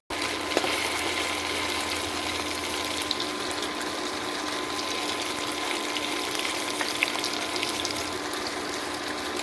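Tofu frying in a pan for a Filipino mung bean stew, a steady broadband sizzle that holds at an even level throughout with no voices.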